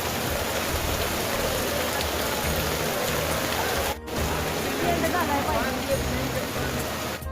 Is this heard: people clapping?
no